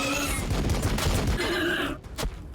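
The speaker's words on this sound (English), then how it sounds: "Can you shoot that and not friendly fire or something?" A loud burst of rapid gunfire in the strategy game Warhammer 40,000: Battlesector, a dense volley of shots that cuts off abruptly near the end, followed by a brief final crack.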